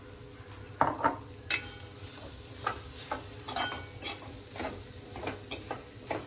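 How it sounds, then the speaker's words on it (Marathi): Grated coconut and jaggery roasting in a pan for modak, heard as soft, repeated scraping stirs with a faint sizzle underneath, close and fairly quiet. "नारळाचा ओलावा जावा असं पण थोडंसं भाजून घेऊया"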